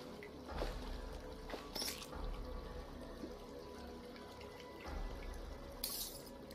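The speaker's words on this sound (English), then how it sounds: "That seems like a lot of water." Water flowing in the game Terraria: a soft, steady watery gurgle and trickle with brief splashy surges, fairly quiet throughout.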